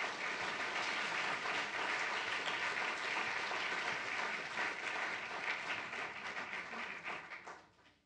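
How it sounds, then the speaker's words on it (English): Audience applause for a poet at a Litquake literary reading in the San Francisco Public Library, a dense steady clapping from a full room that holds for about seven seconds, then thins and fades out. "Please give her a round of applause."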